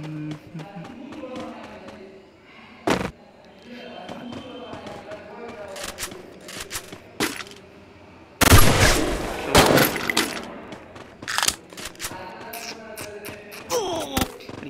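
Gunfire in the mobile shooter game Free Fire: scattered single shots and a dense burst of rapid fire midway, with game effects and a voice talking over parts of it.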